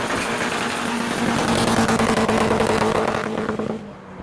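A supercharged Ariel Atom drives past at a car meet, its engine a loud, steady drone with a sustained tonal whine that holds for several seconds before fading as it moves away.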